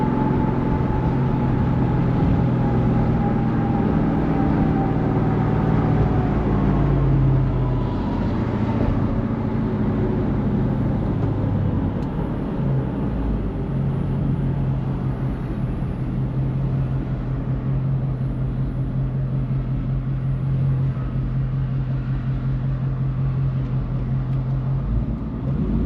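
A truck with a Ford Coyote V8 swap cruises along on a short drive, its engine a steady low drone with a shift in pitch partway through, heard continuously from inside the cab.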